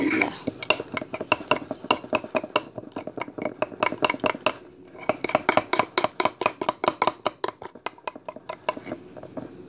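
A spoon or fork mixes mug cake batter inside a mug, making rapid, rhythmic clinking and scraping strokes against the ceramic, close and fairly loud, in bursts with a brief pause near the middle.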